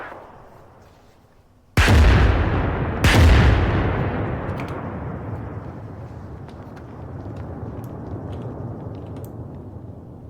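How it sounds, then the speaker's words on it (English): Two heavy artillery shells land on a hill in Arma 3, each a loud sudden boom followed by a long rumbling decay, with distant gunfire crackling faintly afterward. "immediately we get some artillery markers coming towards this hill"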